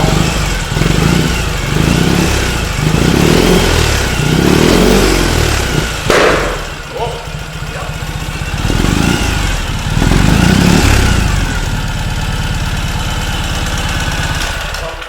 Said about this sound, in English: It's got a great loud. It's a very nice loud sound.